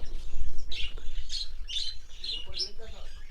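Caged finches and Java sparrows at a bird farm chirp in quick, bright bursts of tweets that repeat through the moment over a steady low background rumble.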